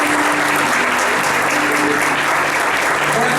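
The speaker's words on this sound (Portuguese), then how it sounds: "Uma salva de palmas para Jesus." A church congregation at an Adventist service in Guarulhos breaks into dense, sustained applause that fills the whole stretch at close range.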